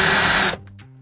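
A Neiko step drill bit bores into a metal box, a harsh whining grind that runs for about half a second and then cuts off, leaving the motor spinning down into quiet.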